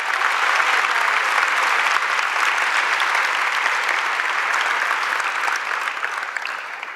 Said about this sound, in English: Another round of applause for our elementary Principal of the Year